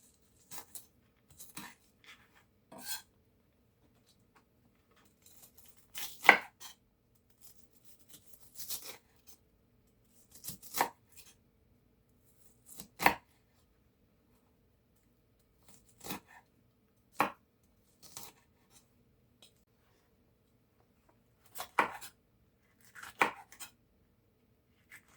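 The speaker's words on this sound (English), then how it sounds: "let me cut all the rest of the onions" Onions chopped with a knife on a board, sharp isolated knocks arriving in irregular clusters with quiet pauses between, close and clean with no talking.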